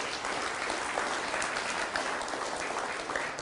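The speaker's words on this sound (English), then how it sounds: "Round of applause for pearls" A steady round of audience applause at a sales and personality talk, dense and even from start to finish, with no voices over it.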